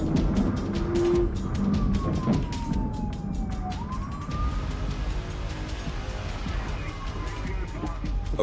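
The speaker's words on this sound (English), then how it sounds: "Sirens wail as a high-speed chase unfolds." Police car sirens wail during a high-speed chase, a rising and falling tone sweeping through the middle over engine and road noise, with a voice talking over it.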